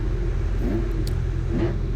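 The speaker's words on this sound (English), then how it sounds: "He obviously likes the sound of his new engine" Engine of a newly built, light and fast hot hatch race car at Castle Combe, a steady close droning rumble with slight revving swells over about two seconds, no talk.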